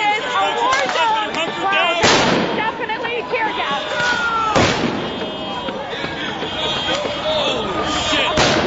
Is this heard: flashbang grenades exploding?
yes